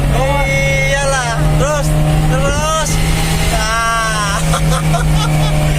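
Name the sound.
Mitsubishi L300 engine revving after tune-up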